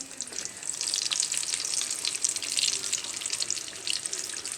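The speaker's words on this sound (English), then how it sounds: "we're going to let these fry up" Cuban potato balls fry in hot oil with a steady, dense sizzle and crackle that stays fairly loud and even throughout, with no talking over it.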